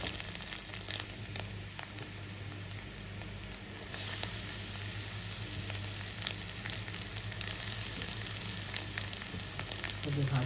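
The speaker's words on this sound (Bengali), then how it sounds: "ভাতগুলো মিশিয়ে দিয়ে একটু নাড়তে হবে।" Rice being stirred into a fried mixture in a home-kitchen pan, giving a steady close sizzle and frying crackle with soft scraping from the stirring, continuous throughout and a touch louder in the second half.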